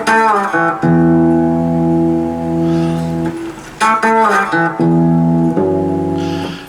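An acoustic guitar plays a short phrase of a song's melody, with clear sustained single notes plucked one after another and left ringing, close and alone with no talk.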